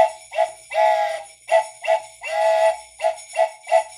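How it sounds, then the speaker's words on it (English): A train whistle sounds alone in a rhythmic pattern of short and long blasts, loud and clear, repeating about a dozen times. "And the whistle on the train goes"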